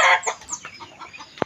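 Chickens cluck in short, quick bursts, close by, ending with a sharp brief knock.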